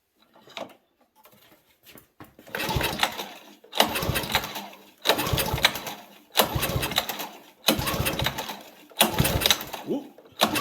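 A Honda Harmony 215 lawn mower with its choke on is pull-started over and over, and each yank of the cord brings a short rough burst of engine noise, about six in a row with gaps between.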